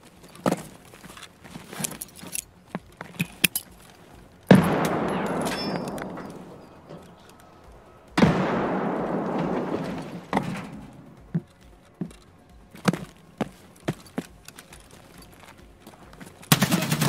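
Gunfire in the game Escape from Tarkov, scattered sharp shots cracking at irregular intervals, mostly distant, with two longer rushing bursts of noise between them.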